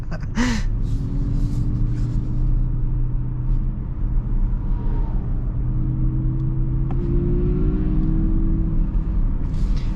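A 2020 Mazda MX-30 electric car accelerates hard with wheelspin, giving a loud, continuous road rumble with a rising motor whine and a brief laugh or gasp near the start.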